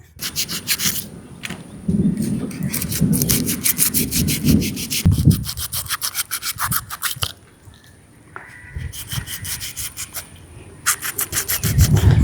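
Rapid rhythmic scraping of karimeen (pearl spot) fish being scaled with a thermocol cutter comes in bursts with short pauses between strokes.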